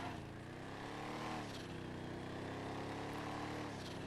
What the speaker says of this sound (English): I like the turbo blow-off valve on this car